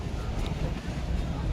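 Strong wind at a boat jetty in Mumbai buffets the microphone with a low, continuous rumble, close and steady for the whole moment.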